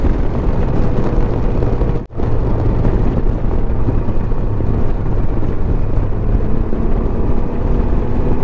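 A Can-Am Ryker three-wheeler carrying two riders sweeps through fast turns, its engine drone steady and loud under constant wind roar, with one brief dropout early on.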